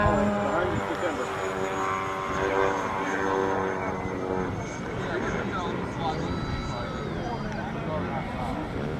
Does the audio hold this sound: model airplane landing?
yes